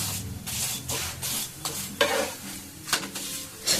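Paratha toasting in oil on a hot pan sizzles loudly and close, with rhythmic bursts as the flatbread is pressed and turned, and a few scraping spatula strokes.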